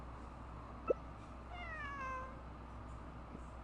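A single drawn-out meow from a cat in Genshin Impact follows a brief soft click, fairly quiet against a constant low hum; nobody speaks.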